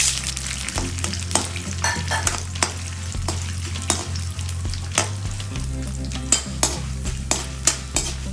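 Chana dal is stirred in sizzling oil in a pan, the constant frying hiss punctuated by regular scrapes and clicks of a spatula against the metal, close and steady throughout.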